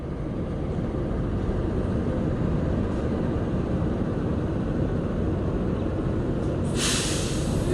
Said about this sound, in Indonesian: kereta api Manahan akan masuk di jalur 3 dengan lokomotif CC 201